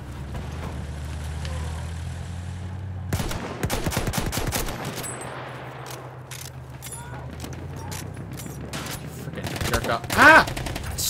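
Gunfire in an online Battlefield 1 Conquest match at Giant's Shadow, rapid close shots and bursts over a low engine rumble, with a sharper loud crack near the end.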